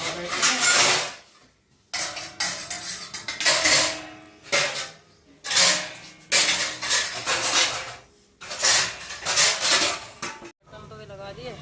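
Metal dishes, pots and pans being washed by hand, with repeated bursts of clanking and scraping of metal on metal separated by brief pauses, close and fairly loud.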